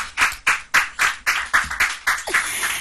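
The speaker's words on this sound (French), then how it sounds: "on va applaudir." A French TV quiz show studio audience claps in a brisk, even rhythm, about ten sharp beats in unison, loud and close with no talk over it.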